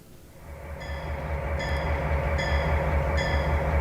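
Trains run through Riverbend rail yard with a steady, swelling rumble, while a high warning tone beeps at a regular rhythm several times over it.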